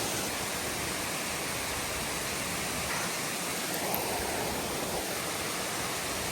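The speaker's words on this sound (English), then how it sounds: "Right next to the waterfall" A waterfall on Mt. Moosilauke roars as a dense, continuous rush of falling water, loud and close, with no break throughout.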